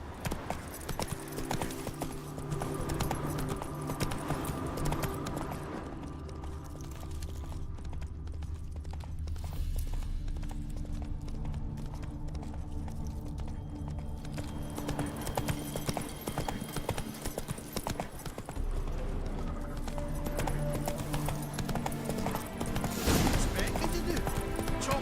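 The horse Roach gallops in The Witcher 3 video game, a fast, steady clip-clop of hooves running throughout, with faint combat noise and other game sounds in the background.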